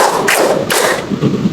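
A classroom hand clapping game: a few sharp claps in quick succession over a noisy room, close and fairly loud.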